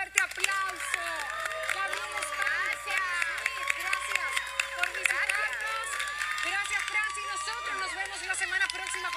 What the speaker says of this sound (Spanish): Les regalamos un fuerte aplauso.